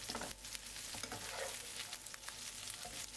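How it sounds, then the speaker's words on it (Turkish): Meatballs sizzle and crackle in a hot pan, with soft scraping and rustling as the pan is shaken about. "Biraz kızardığını görünce şöyle tavayı güzelce sallıyorum."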